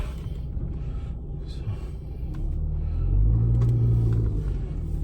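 A Toyota RAV4 drives across a grassy yard, its engine giving a steady low rumble that swells louder and heavier about halfway through as it pulls forward.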